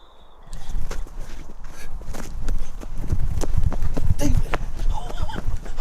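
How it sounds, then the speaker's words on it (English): Footsteps crunch and shuffle around at night in the wilderness, irregular and fairly close, with rustling and scattered thuds. "Final sounds of footsteps move around them again"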